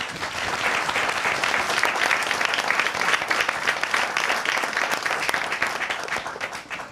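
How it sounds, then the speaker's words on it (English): A studio audience at a televised candidate encounter in Ghana applauds the president. The dense, even clapping holds steady for several seconds before tapering slightly at the end. "A round of applause for the president."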